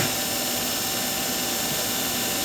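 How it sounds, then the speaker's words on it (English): A Harbor Freight Hercules belt grinder runs steadily with a loud, continuous abrasive whir and hum, close up, with no break throughout. "that belt grinder, man, it makes easy work out of it"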